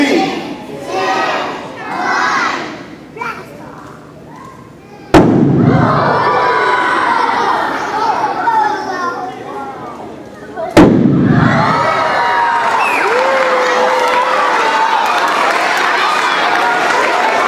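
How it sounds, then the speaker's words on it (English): A fire-lit balloon explosion at a church youth event sets off two sharp booms, each followed at once by a loud, sustained crowd cheering and shouting; excited voices murmur before the first blast. "Inside of that balloon causes an explosion whenever it touches any kind of"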